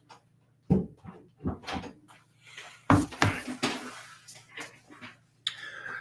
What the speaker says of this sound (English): Now I got to open a door because the cat wants out.